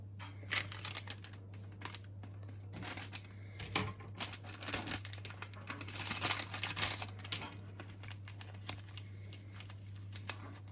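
Crinkly rustling and crackling of a filter coffee package being handled and opened, with irregular close crumpling bursts over a steady low hum.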